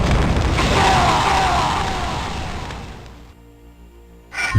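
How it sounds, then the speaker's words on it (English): A retro first-person fantasy game, Anvil of Dawn, plays an enemy's death explosion: one loud booming blast that rolls and fades over about three seconds, followed by a short quiet tail and a brief new sound at the end. "they explode when you kill them"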